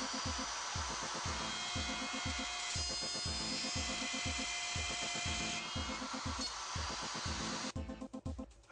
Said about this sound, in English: Cut a dovetail socket by simply allowing the bearing on the router bit to follow the dovetail guide socket.